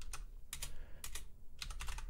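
Computer keyboard keys clicking in short irregular bursts while code is typed, with a few quick strokes at a time separated by brief gaps, fairly faint and close.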